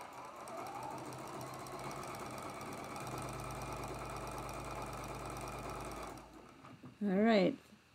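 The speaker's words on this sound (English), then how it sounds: "Lots of sewing." A sewing machine stitches a quilt block in a fast, steady mechanical whir for about six seconds, then stops, followed by a brief burst of talking.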